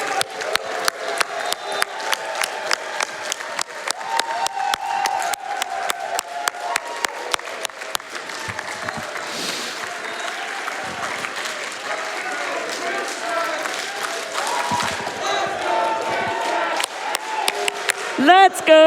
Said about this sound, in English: So many people in the room are on their feet cheering for you